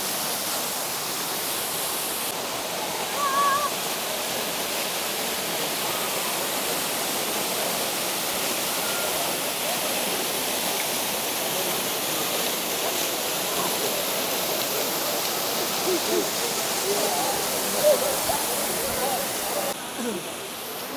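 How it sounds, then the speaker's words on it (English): Ourika waterfall in the Atlas Mountains roars in a steady, broadband rush of falling water that stays loud and unbroken throughout. "That's the waterfall done."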